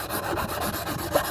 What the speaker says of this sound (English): I'm just going to sand these edges off here and here, and then underneath as well